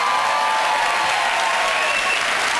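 A live comedy audience in London claps in sustained, dense applause, loud and steady throughout.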